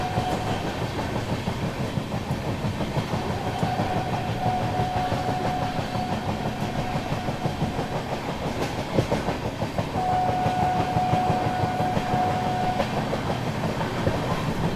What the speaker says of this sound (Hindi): दोस्तों ट्रेन अपनी जो है साहिबाबाद स्किप कर रही है।